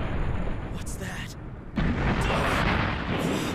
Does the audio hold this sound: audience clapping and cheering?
no